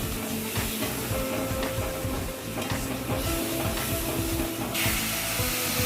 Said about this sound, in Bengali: এবার ভালোভাবে মশলাটা কষিয়ে নেব।